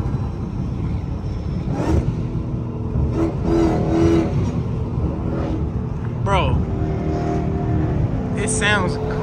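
Loud, steady V8 exhaust rumble from a Dodge Hellcat after an exhaust fix, revved in sharp bursts with rising engine sweeps, while voices talk over it throughout.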